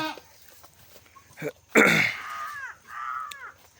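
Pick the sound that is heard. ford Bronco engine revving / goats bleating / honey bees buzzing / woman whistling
goats bleating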